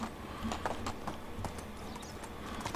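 Horse hooves clip-clop at a steady walking rhythm in the medieval survival game Medieval Dynasty, the taps moderately close and even, with no talking over them.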